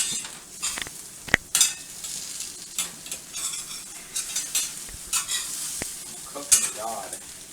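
Egg and cheese frying in a pan, with a steady close sizzle under occasional scraping stirs and clinks of a utensil against the pan, no talk.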